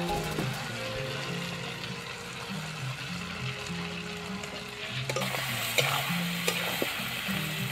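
Mutton head meat and potatoes fry in oil in a desi-style cooking pan with a steady, close, crackling sizzle. It grows brighter and louder near the end, and nobody talks.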